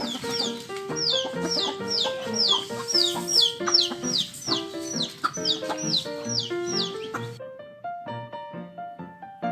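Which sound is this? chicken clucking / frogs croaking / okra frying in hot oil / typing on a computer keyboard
chicken clucking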